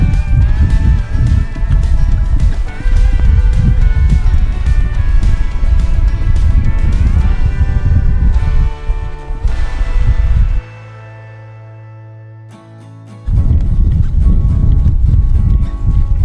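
A young colt under saddle in early training, with loud hoofbeats and a whinny amid dense, busy sound that drops briefly before returning.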